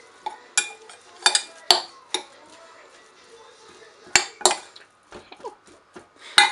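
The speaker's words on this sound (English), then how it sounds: "just mix it up because you don't want it all falling out of the tortillas." Tuna stirred with light mayo in a bowl, heard as intermittent clinks and scrapes of a utensil against the dish, a few sharper knocks spaced across the stretch with quiet gaps between.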